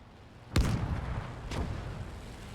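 A Pak 43 anti-tank gun fires in Gates of Hell, giving one sharp booming shot and then a second, softer blast about a second later over a low rumbling background.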